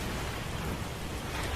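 Heavy rain in a thunderstorm over a village at night, a dense, loud, continuous wash of rainfall with deep rumbling underneath and no voices.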